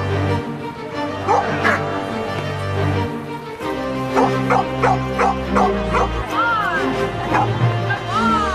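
A two-year-old police detection and tracking dog at a rodeo and pet round-up barks, yips and whimpers repeatedly during a bite work demonstration against an officer, loud and close, with people talking around it.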